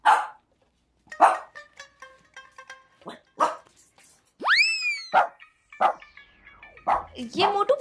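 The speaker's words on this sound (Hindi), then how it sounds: "ये मोटू भौंक क्यों रहा है?" Several sharp dog barks come in separate bursts, spaced apart, with a bright springy boing sound effect midway and quieter sounds between.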